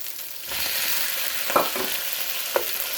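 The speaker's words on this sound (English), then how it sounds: "So we're basically sauteing it" Spicy red shrimp sauce sautés in a hot pan with a steady broadband sizzle, a few sharper clinks of stirring near the middle and end, close and fairly loud.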